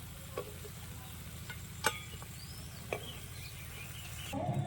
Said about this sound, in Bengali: জিলিপিগুলো তেল থেকে উপরে উঠে গেছে এখন উল্টে পাল্টে দেবো লাল লাল করে ভেজে নেব